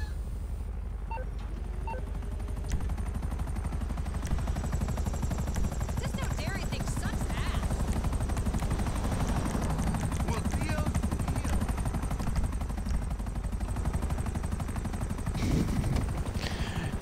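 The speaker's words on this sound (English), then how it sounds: "a helicopter in the sky" A helicopter flies overhead in a game setting, a steady low rotor drone running continuously under other game sounds and occasional faint voices.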